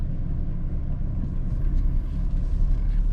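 Low steady engine rumble and road noise from inside a moving car, a continuous, fairly loud drone with no talking.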